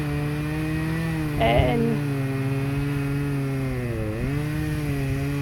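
A battery-operated saw whines in a steady harmonic drone as it works through a large chunk of wood, its pitch sagging briefly under load near the end; a short voice cuts in early over the motor.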